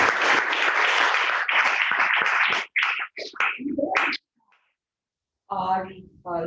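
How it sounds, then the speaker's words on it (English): Applause at a Toastmasters club meeting, likely online, comes in clipped bursts that stop and start. A short gap of silence follows, then a voice begins speaking near the end. "Let's give him a good round of applause."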